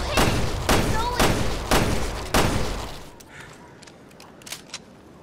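Five loud, evenly spaced gunshots in Resident Evil Revelations 2, fired at an invisible monster, followed by quieter clatter and a couple of faint thumps; shouted voices accompany the shooting.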